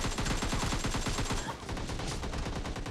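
Rapid automatic gunfire from the mobile battle royale game BGMI (PUBG Mobile), a dense burst of shots that rattles steadily for about a second and a half, then continues as scattered, slightly softer fire with no talking.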